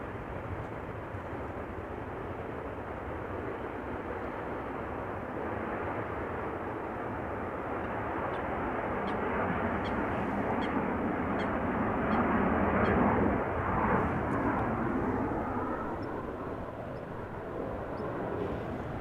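A business jet takes off from runway 22 at Amsterdam Schiphol Airport, a steady broadband engine roar that swells slightly toward the middle and holds throughout, with no voices.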